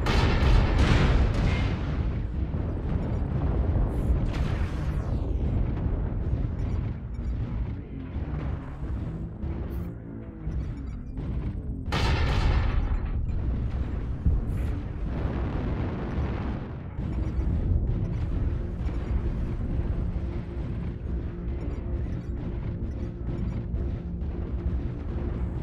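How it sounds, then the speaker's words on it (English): Airstrike explosions in the game MechWarrior Online, a long run of heavy rumbling blasts and booms layered over one another, loud and continuous with a few sharper bursts standing out. "Airstrike activated."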